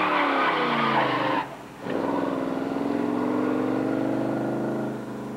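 A car doing a tire burnout at a racing event, with loud, continuous tire squeal and roaring engine that dip briefly mid-clip, then surge back into sustained screeching.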